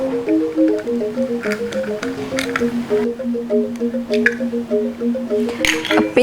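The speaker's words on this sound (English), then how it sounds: "Now let's prepare the egg because we're going to add some egg into the papaya. I'm using 4 eggs here." Four eggs are cracked into a bowl, each giving a soft, wet squish and drip, spaced out one after another over a light melodic background tune.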